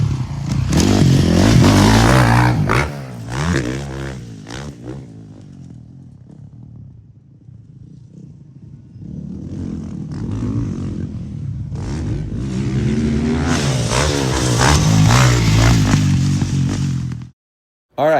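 Dirt bike engine revving and roaring through a rutted motocross section, the motor rising and falling as the rider works through the ruts, loud and close with a brief quieter dip midway and a sudden stop at the end.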